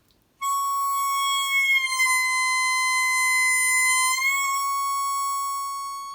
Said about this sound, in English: So this is an 8 blow bend.